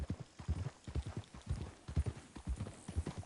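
Rhythmic clip-clop of horse hooves walking in Red Dead Redemption, steady and fairly close, with no other prominent sounds.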